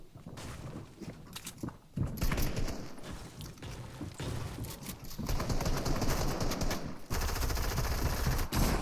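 Gunfire in the Fortnite video game: dense bursts of rapid automatic shots and sprays of fire, sustained and loud, with short gaps between volleys.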